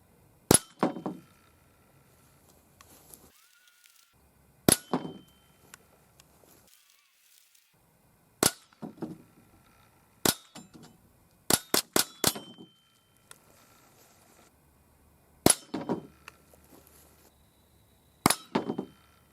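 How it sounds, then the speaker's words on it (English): .22 bullets strike a steel leaf-spring target outdoors, making about ten sharp metallic clangs at irregular intervals, some in quick succession, each ringing briefly, with quiet gaps between. "let's try shooting this thing with a 22, and then we'll step it up to some more powerful calibers"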